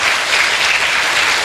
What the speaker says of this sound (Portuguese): Aplaude o Senhor, aplaude o Senhor.